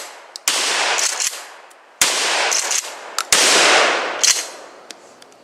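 A Remington 870 pump shotgun fires rounds of 7.5 birdshot in separate sharp, loud blasts, each followed by a ringing decay, with faint clicks of the pump action between shots and no talking.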